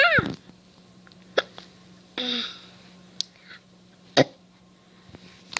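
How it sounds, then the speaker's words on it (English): A person hiccups several times, giving sharp, abrupt gulps spaced a second or more apart, close up in a quiet room with a steady low hum. "You got the hiccups?"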